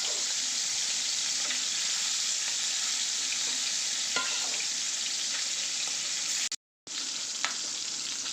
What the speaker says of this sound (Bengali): এখন ইলিশ মাছ ভাজি করব